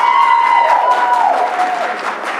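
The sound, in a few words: audience applause at a board of education meeting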